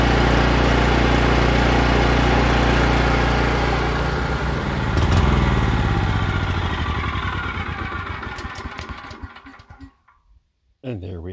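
25-year-old Briggs and Stratton 9hp generator engine running loud and close, then sputtering and winding down as the carburetor runs dry, dying out near the end before a brief clunk.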